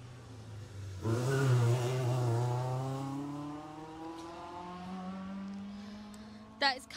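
Car 78, a Citroën Saxo rally car on a Jersey Rally stage, comes through with a sudden engine surge and a long, rising then fading rev note as it passes and heads away, faint and mid-distance.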